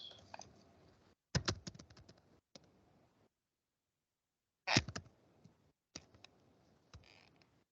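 Keys tapped on a computer keyboard while a search is typed into the Windows 10 Registry Editor, coming in short quiet bursts of clicks separated by pauses.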